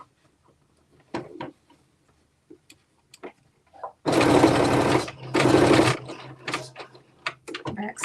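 A sewing machine stitches a garment being made into shorts, two loud continuous runs of rapid stitching with a short break between, framed by quiet clicks and handling noises.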